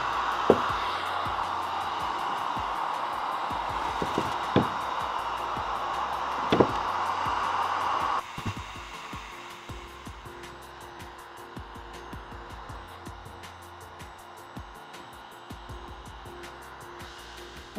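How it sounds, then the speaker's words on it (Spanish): A hair dryer blows steadily over crackle paint on a craft piece, a continuous whooshing hum that drops in level partway through, with a few light knocks and taps and no talking. "he estado secando, pasándole el secador a mi cuarteado"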